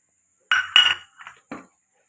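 Tamarind dropped into a metal pot for sweet chutney, a couple of bright clinks and knocks of a spoon against the rim, then a softer thud, close by with silence between.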